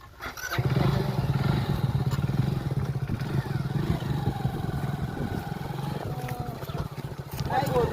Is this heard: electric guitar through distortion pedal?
no